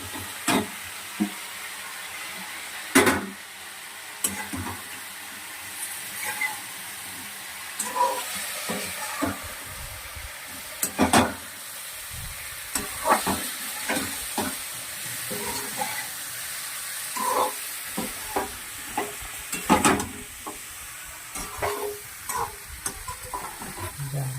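Patra rolls sizzle and fry in a hot tempering of curry leaves and sugar water, with steady hissing broken by repeated scraping stir sounds and sharp crackles, close and fairly loud, with no voices.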